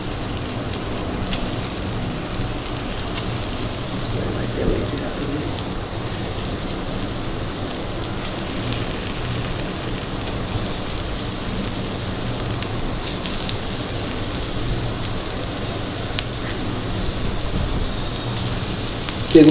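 Chicken pieces deep-fry in very hot oil with a steady crackling sizzle that stays constant and fairly close throughout, with no talk.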